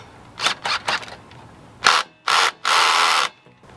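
Ratcheting on the clamps of an AWE Touring exhaust tip on a 2013 BMW F30 335i xDrive: several short bursts of metallic clicking, close and fairly loud, the last one a longer steady run, with no talk.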